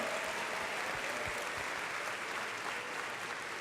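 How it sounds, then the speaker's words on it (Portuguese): A church congregation applauds after a sermon segment on Revelation, a steady wash of many hands clapping, fairly distant and even, sustained for several seconds with no talking. "Uma salva de palmas ao Senhor"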